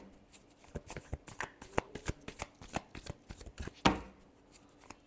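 Tarot cards being shuffled by hand in quick, uneven bursts of riffling flicks and soft slaps, close up and alone without speech.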